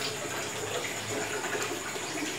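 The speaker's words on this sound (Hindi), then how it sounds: "ये वाली पाइप जो बिजली वाली पाइप आती है वो लगा के हम कूलर में पानी भरते हैं" Water runs from a pipe into an air cooler's tank, a steady continuous splashing gush at moderate loudness with no voices.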